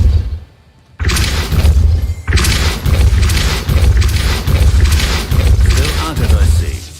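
Depulso force spell cast in the Hogwarts Legacy video game, a loud crashing, shattering burst after a brief quiet, followed by a string of rhythmic forceful impacts and rumbles.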